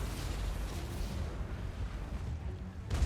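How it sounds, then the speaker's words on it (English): Deck gunners fire in a Total War: Warhammer 2 battle, a dense, continuous rumble of distant booms and crackling blasts that swells again at the end. "already starting to take fire from the deck gunners"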